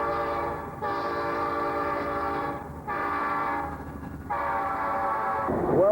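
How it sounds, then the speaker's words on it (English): A diesel freight locomotive sounds its horn in three long, loud blasts separated by brief gaps, with rumbling rail noise underneath as the train passes close by. "this is a typical locomotive like you'd see hauling freight"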